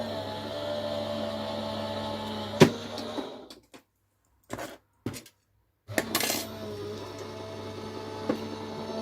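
A die-cutting machine runs a card through its cutting plates with a mechanical whirring hum, broken by clicks and brief pauses, and then restarts, close and moderately loud.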